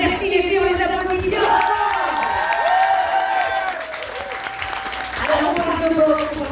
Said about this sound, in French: Merci les filles, on les applaudit.